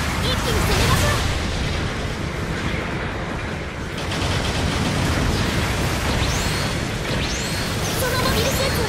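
Support artillery bombardment in Gundam Battle Operation 2 rumbles as a loud, sustained wash of explosions and booms, with a voice talking over the barrage throughout.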